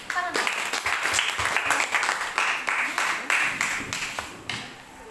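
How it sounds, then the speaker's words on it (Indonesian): A church group claps together, a moderate run of rhythmic, fairly close hand claps that start abruptly and stop suddenly near the end. "Tepuk tangan."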